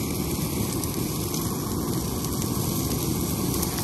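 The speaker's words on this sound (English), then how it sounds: "Kind of raining." Steady rain falls at a tree farm where brush piles are being burned during spring cleanup, a dense, continuous hiss that stays loud and even throughout with no voices.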